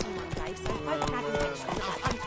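Hooves of Roach, the horse in The Witcher 3, clatter at a quick gallop in a steady clip-clop rhythm, fairly close, with talk and game sound over it and a brief whinny-like tone.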